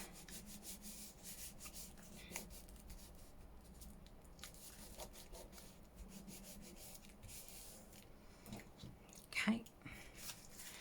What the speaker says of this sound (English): just give it a bit of a rub down